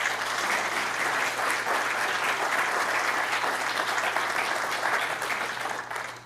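An audience at a university evening lecture applauds to welcome a speaker, steady dense clapping throughout that tapers off at the very end.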